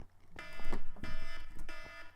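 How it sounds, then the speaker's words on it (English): Electronic timer going off in a room, a harsh buzzing alarm tone sounding in three repeated bursts, loud and close. "Oh, there's my timer"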